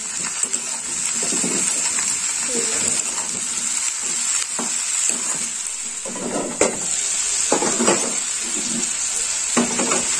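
Cauliflower fries in a pan with a constant hissing sizzle, broken by repeated scraping and clattering bursts as a spatula stirs it, fairly close.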